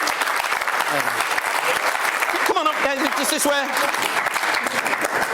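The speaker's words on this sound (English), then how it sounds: "Give them a big round of applause." An audience claps steadily and fairly loudly at a live show while someone speaks over the applause, inviting people up onto the stage.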